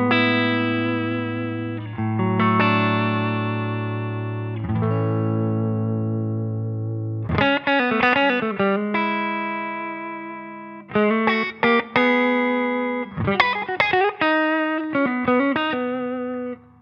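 Harley Benton electric guitar played through distortion effects, starting with sustained chords and moving into choppy, rhythmic riffs with sharp attacks, loud and close with no voices.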